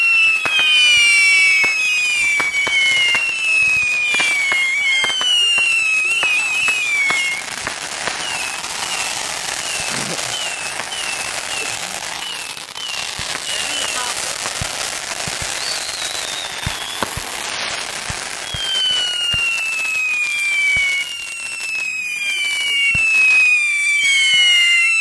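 New Year's Eve fireworks at an inn celebration: a dense, loud, continuous barrage of pops and crackles, with whistling rockets rising and falling at the start and again near the end.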